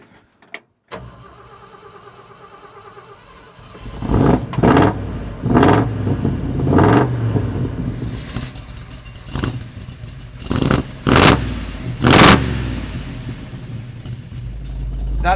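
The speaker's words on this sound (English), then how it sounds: "The exhaust sounds awesome." A truck's engine catches after a cranking start, then idles roughly through a loud exhaust and breaks into several sharp revs, near and loud, each blip surging and falling back.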